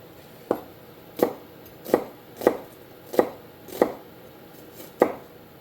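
A knife chops an onion on a board in seven or eight crisp, evenly spaced thuds, close and clear, with no talking.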